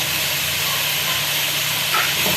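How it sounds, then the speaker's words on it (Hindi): Meat frying with three large tomatoes, chili powder and turmeric for a mongray chicken dish, a loud, steady, close hissing sizzle that runs without a break. "ये टमाटर और ये सब गोश्त भून रहे हैं"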